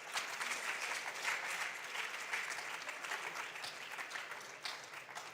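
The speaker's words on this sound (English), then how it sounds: "Let's clap for our teachers." An audience at a national junior science and maths quiz championship applauds its teachers with steady, even clapping from many hands, sustained without a break throughout.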